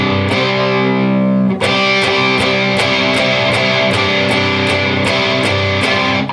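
An electric guitar with a distorted, effects-laden tone plays the melody of a song, a steady line of picked notes with regular rhythmic attacks, loud and alone with no talk.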